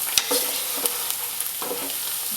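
Garlic and herbs sautéing in a pan for a summer tomato sauce, stirred with a utensil that scrapes and taps a few times over a steady close sizzle, with no voices.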